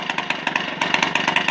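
A restarted MBK 51 moped's two-stroke engine runs steadily on a dirt track, a buzzy, rapidly pulsing drone with rhythmic bursts, close and fairly loud, with no talk.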